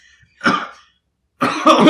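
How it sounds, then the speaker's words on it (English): A person coughs twice right into a close microphone, two harsh bursts separated by a brief silence. "I'm gonna cough right into the mic."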